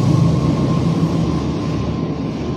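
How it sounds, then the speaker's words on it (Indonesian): A train passes beside a mosque, a steady loud rumbling roar that holds throughout with a faint tonal whine and no talk over it. "Ntar kereta lewat dulu."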